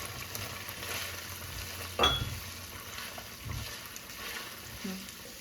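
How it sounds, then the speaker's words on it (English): Onions sizzle and crackle in a pan with dry spices in a home kitchen, a steady frying hiss broken by a louder clatter as something is stirred or added partway through. "once that gets fried up, we go ahead and dump in all our onions"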